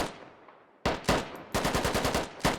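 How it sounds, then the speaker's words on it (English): Gunfire in the military shooter game Squad: a faint distant shot, then a sharp close burst, followed by a rapid string of about ten loud automatic rounds and a final shot. "I can't tell what Bartok's trying to shoot at here."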